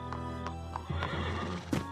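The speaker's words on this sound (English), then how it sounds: "take care of the horses" Horses in an animated Revolutionary War-era scene neigh and whinny, with several sharp bursts and hoof clip-clops mixed in over a steady low background.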